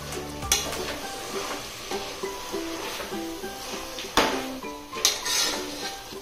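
Minced mutton keema stirred into softened onions and ginger-garlic paste in a pan, with a steady frying sizzle under repeated scraping and clinking of a spoon against the metal, plus a couple of louder knocks.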